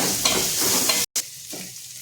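Onions and garlic sautéing in a pan for an ayila fish curry, with a steady close sizzle and stirring scrapes, a brief break, then a quieter continued fry.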